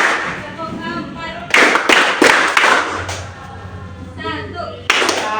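A class of pupils claps hands in bursts during a counting clap game, several loud group claps landing between stretches of an adult voice speaking, with the claps in clusters rather than steady applause.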